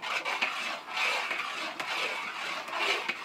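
Mole sauce, a red chile mole, is stirred and beaten in a pot, giving a steady rasping scrape that pulses in repeated strokes, close and fairly loud, with no talking.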